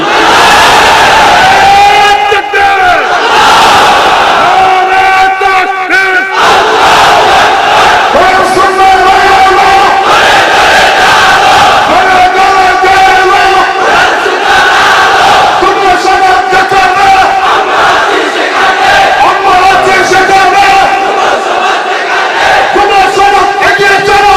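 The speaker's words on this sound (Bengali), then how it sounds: "তাহলে জিব্বা মহব্বতে জিব্বা খুলে কণ্ঠ আওয়াজ করে একটা তাকবীর দাও, নারে তাকবীর" A large crowd at a Bangla religious sermon gathering shouts the takbir chant in unison, loud, repeated rhythmic roars of many voices filling the space.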